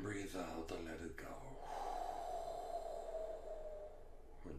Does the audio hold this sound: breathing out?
yes